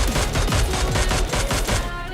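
Rapid bursts of gunfire from a mobile shooter game fill the clip, loud and continuous, with repeated cracking shots over a dense, busy soundtrack.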